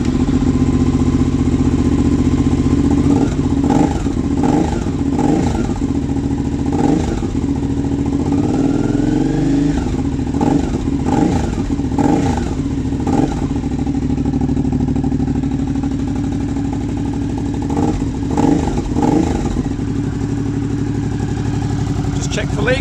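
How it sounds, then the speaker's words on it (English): A Suzuki V-Strom 650 with a BlackWidow exhaust, baffle installed, idles loudly and close with repeated throttle blips and revs, while someone talks over the engine. "So let's fire up. So this is with the baffle in."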